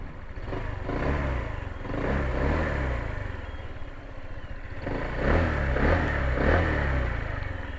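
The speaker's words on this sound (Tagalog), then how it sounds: "So try natin i-rev." A nearby Euro Motor Samurai 155i V2 motorcycle engine revs up twice, the loud roar rising and falling between short dips back toward idle.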